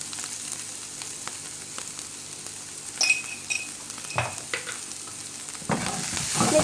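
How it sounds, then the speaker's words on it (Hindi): Spices being stirred into egg fried rice in a hot pan: a soft steady sizzle with a spoon scraping and clinking against the metal in scattered strokes, close by and with no talk. "मिक्स कर देंगे अच्छी तरह।"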